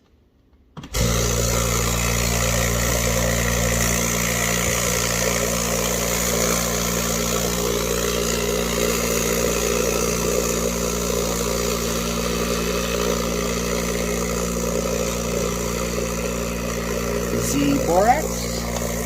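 A Lot-O rock tumbler loaded with 1000-grit silicon carbide and borax churns steadily, a continuous low motor hum with a grinding rattle holding nearly unchanged for the whole stretch after a short silent start.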